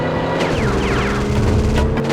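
Gunfire strikes a car in the 007 Racing video game, dense bursts of booming shots and impacts over a constant loud engine roar, with no talking.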